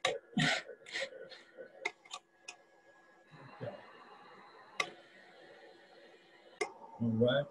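Several sharp coughs and bursts of breath close up, made with a cough assist machine, its mechanical hum and faint ticking in between, and a voice speaking at the end.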